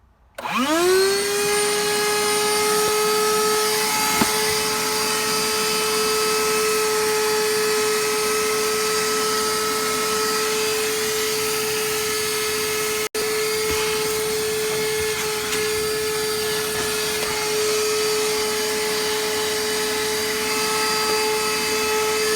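A loud, steady Ridgid 18V cordless shop vacuum motor whines continuously with a strong constant hum and high-pitched harmonics, running alone without pauses.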